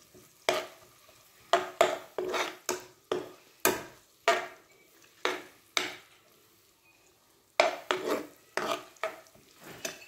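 Ginger dropped into hot melted ghee, with repeated sharp scraping stirs of a spatula against the pan over a light sizzle, close and clear, without talk.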